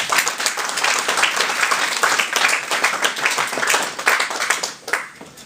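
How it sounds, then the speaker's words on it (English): A stage magic show audience applauds a volunteer with dense, steady clapping that fills the room for about five seconds and then fades out near the end. "Give him a round of applause."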